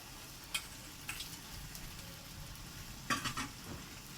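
Banana flower is stirred with braised meat in a pan, a faint low sizzle under soft scraping and a few clinks of a spatula against the pan.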